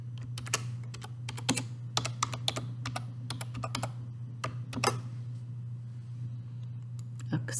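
Quick, irregular keypresses as a password is typed on a computer keyboard, close and crisp over a steady low hum, with a short pause before a final few taps.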